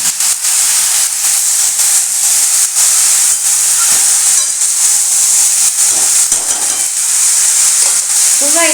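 Mixed vegetables with chopped raw tomato sizzle loudly in white oil in a pan, a dense, steady hiss broken by occasional stirring scrapes near the end.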